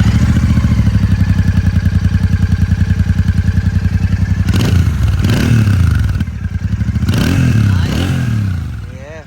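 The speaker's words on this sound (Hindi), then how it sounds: "एग्जॉस्ट सुनवाता हूँ आपको" A Royal Enfield Super Meteor motorcycle idles with a steady low throb, then its exhaust is revved in several sharp bursts that rise and fall, loud and close.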